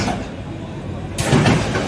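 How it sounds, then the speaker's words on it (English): A roller coaster train at Six Flags Over Georgia passes overhead and runs into the brakes, a sudden loud surge of rushing, rumbling noise that breaks in after a quieter stretch of steady background din. "train's passing over me right now into the brakes"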